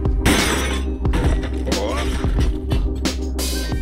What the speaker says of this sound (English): We found the cracking of the shell of the crab was so much fun